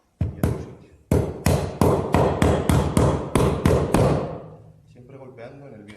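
Sharp hammer blows tap a new bearing into place on a Zanussi ZWF 1106W washing machine, about ten loud, evenly spaced strikes close by, followed by a brief quieter stretch with faint voice.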